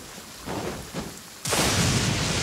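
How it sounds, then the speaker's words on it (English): Stormy weather in Genshin Impact: two dull thunder rumbles are followed by a sudden, steady wash of heavy rain that continues to the end. "Let us find shelter from the rain."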